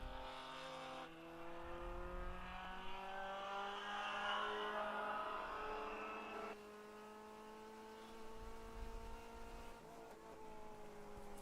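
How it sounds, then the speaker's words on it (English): Race cars in a 24-hour ChampCar endurance race at Nelson Ledges pass under a bridge. Whining engines rise and fall in pitch as they go by, with a hollow whoosh and a second car trailing behind, and no voices. "You hear a little whoosh as they go underneath the bridge here and down into turn one again."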